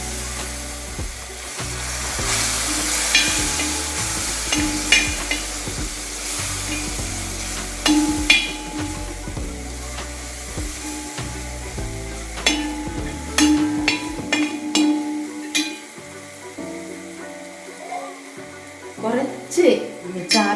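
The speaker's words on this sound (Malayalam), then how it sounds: "ഇത് നമ്മൾ വിനാഗിരി ഒഴിക്കും." Vinegar hits a hot pan of fish pickle mixture and sets off a crackling sizzle that rises and falls over about twenty seconds, with occasional clinks of stirring and a steady background hum.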